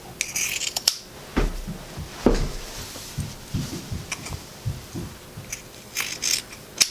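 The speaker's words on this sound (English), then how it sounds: "we're going to clip the corners" Scissors snip at fabric corners and trim back the seam allowances on a zippered bag, a quick series of close, crisp cuts with brief pauses and light handling rustle between them.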